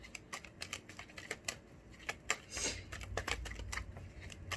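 Tarot or oracle cards handled and shuffled in the hands, a run of soft papery clicks and flicks close by, with one brief louder riffle midway and a low rumble underneath.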